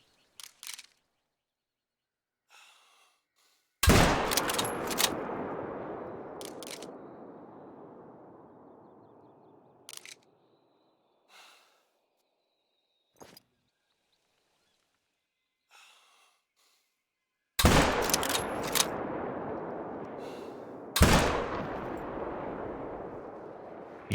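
Rifle shots ring out while hunting a fallow deer in theHunter: Call of the Wild, several loud, sharp reports with long rolling echoes that tail off, separated by quiet gaps holding faint footsteps and small thuds.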